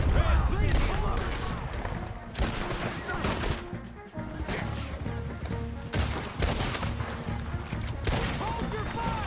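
Gunfire in Red Dead Redemption 2, rapid loud shots and crashes in repeated bursts, close and dense, with voices shouting and talking amid the shooting.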